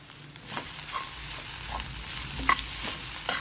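Egg fry with onions being stirred and fried in a pan, a soft constant sizzle broken by scraping strokes and a few sharp clinks of the spatula against the metal, close by.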